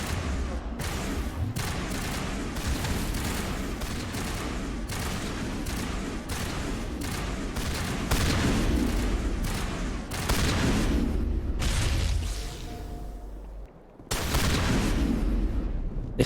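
Shotgun fire in Mass Effect amid a firefight, repeated heavy blasts and booms layered over continuous battle noise, loud and close, with brief pauses between bursts.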